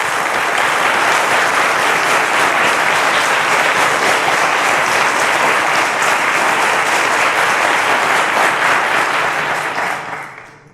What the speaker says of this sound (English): Ladies and gentlemen, a round of applause to all our teachers.